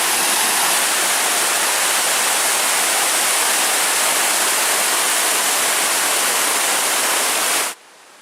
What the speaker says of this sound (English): And this will be Greenstone Falls. It's a very beautiful small waterfall.